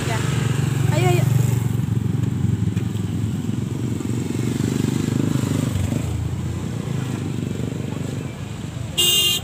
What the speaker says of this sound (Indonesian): Awas ada motor di sini jalan.